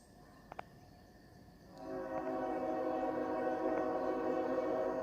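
A CSX freight train, Q372, rolls along the old main line, rising after a couple of seconds into a steady, layered horn-like drone with a few faint clicks beforehand, moderately distant and sustained.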